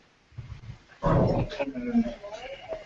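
A dog named Thor gives a short bark, then whimpers and yips, close by and mixed with people chatting casually.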